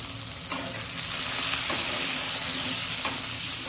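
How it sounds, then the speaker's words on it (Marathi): Chopped onion sizzles in oil in a home kitchen pan, a steady frying hiss with a few sharp stirring clicks and scrapes spaced through it, fairly close and without voices. "त्यामध्ये ऑइल घेतलं मम्मीने आणि त्याच्यामध्ये मम्मीने टाकलं ऑनियन"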